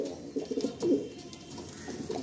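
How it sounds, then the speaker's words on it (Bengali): Pigeons cooing in a loft, a few soft, close, throaty coos in short bursts, with faint background noise and no talking. "খুব সুন্দর পায়রা।"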